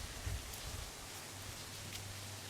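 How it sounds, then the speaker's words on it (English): Soft rain falls steadily in a constant, even hiss, close and unbroken, with no voices over it. "I love soft rainy days."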